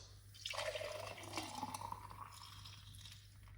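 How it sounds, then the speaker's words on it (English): Carrot and orange juice pours out in a steady liquid stream with faint splashing, starting sharply and fading into a soft trickle, heard close and alone. "Pour it out."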